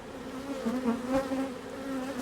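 Honeybees buzz around a hive frame, a close, steady drone with a wavering pitch as individual bees pass nearby, fairly quiet and without talk.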